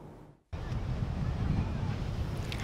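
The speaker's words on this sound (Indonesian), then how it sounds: "Gelombang tinggi di kawasan objek wisata Tanah Lot sudah mulai surut Selasa siang kemarin." High surf crashing at Tanah Lot beach in Bali, a loud continuous roar of breaking waves mixed with wind buffeting the microphone, following a brief quiet moment at the start.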